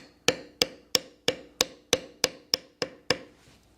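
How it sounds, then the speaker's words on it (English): A hammer taps a beveling tool into leather while shaping dragon scales, giving ten crisp, evenly spaced strikes at a steady beat, each with a short ringing decay, close and clear. "Now we will continue this beveling all the way down, or as far as you choose to go."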